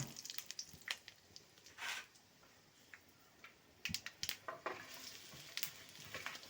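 Freshly grated coconut is dry-roasted in a pan for coconut rice. Faint, intermittent crackles and ticks come from the pan, with brief scraping stirs spaced throughout.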